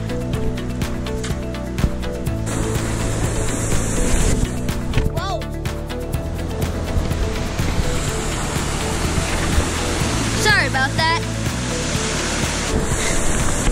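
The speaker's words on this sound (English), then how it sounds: "It goes through a pretty big waterfall." A big waterfall at Rubicon Springs on the Rubicon Trail roars as a steady broadband rush throughout, with intermittent vehicle and background noise layered over it.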